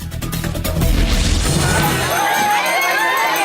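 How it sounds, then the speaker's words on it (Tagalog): Supporters' crowd at a political gathering for a senator in Davao Oriental, a loud dense roar of cheering and shouting that swells and holds steady, close and continuous. "Mainit na pagtanggap, sigaw ng pagkakaisa at matatag na paninindigan ang sumalubong kay Senator Robin Padilla"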